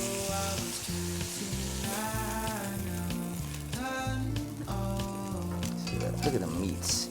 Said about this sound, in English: I'm getting a sear on each side of the meat.